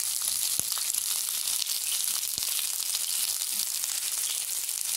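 Sliced onions go into okra (bhindi) frying in a pan, giving a steady, even sizzle with a few faint clicks and stirring sounds and no talking.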